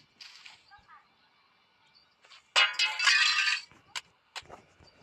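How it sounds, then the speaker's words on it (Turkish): Window glass breaking in the Hello Neighbor video game, a loud crash and shatter followed by a few sharp tinkling clinks of falling shards. "Camı kıracağım."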